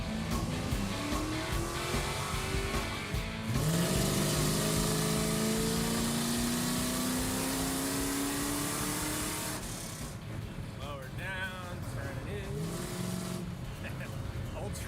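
A Ford F100 pickup with a swapped-in Crown Victoria V8 is driven hard, its engine revving loud and close and climbing through gears with rising then falling pitch. Road and wind noise fill the background.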